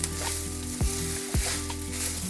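Onion with fresh and dried coconut roasting in a pan, a constant loud sizzle with a few spatula scrapes, close and alone without any voices.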